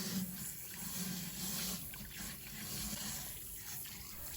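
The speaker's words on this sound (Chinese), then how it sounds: "再放到另一个盆中，用流动水彻底的清洗干净了" Squid rinsed clean under a running tap in a basin, a steady trickle and splash of flowing water continuing alone throughout at moderate level.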